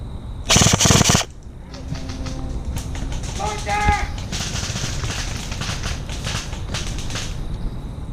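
Rapid bursts of airsoft gunfire during a night game, a loud opening volley followed by sustained rattling shots, with voices calling out among the players.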